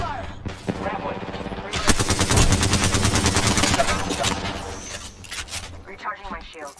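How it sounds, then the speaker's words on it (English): Apex Legends gunfire rattles in rapid automatic bursts, loud and close, with a dense stretch of sustained shooting in the middle before tapering into scattered shots and clinks. "Taking fire."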